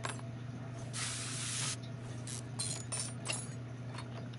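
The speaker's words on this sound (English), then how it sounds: "After we spray with the DW04." Steady hiss of DW04 spray aimed at bolts in Car Mechanic Simulator 21, one long burst followed by shorter spurts and a light metallic clink, close and fairly loud against a humming garage backdrop.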